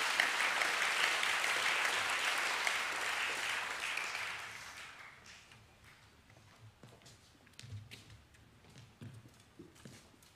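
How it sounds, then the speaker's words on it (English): Round of applause from an audience at a school academic awards assembly, loud and sustained for about five seconds before fading into scattered claps and light room noise. "Please give a round of applause for the Year 10 Academic A winners."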